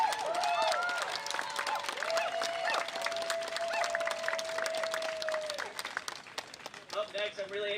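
An outdoor protest rally crowd in Milwaukee applauds a speaker, sustained clapping and some cheers filling the air while a voice carries over the noise and trails off as the applause thins toward the end.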